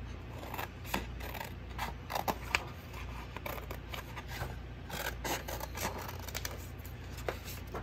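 A piece of cardstock is cut, heard as a quiet, close run of small snips and scraping rustles.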